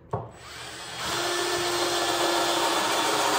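A small grinder whirs up and grinds steadily against metal screw ends with a sharp, high hiss, running continuously after a brief start.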